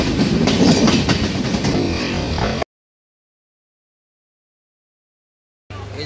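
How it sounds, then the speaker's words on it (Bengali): Train rolling along rails on a journey through Bangladesh, a steady loud rumble for under three seconds before the sound cuts out, then a brief return of rail noise at the end. "রেলের পাটি এক পাশ থেকে আর এক পাশে নিজের গতি পরিবর্তন করছে ট্রেন"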